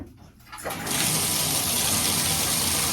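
Bathtub filling with tap water for a child's bath: a steady, loud broadband rush of running water that swells in after a quiet start and continues unbroken, with no talking.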